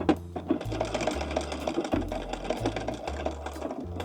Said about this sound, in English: We are sewing this straight line.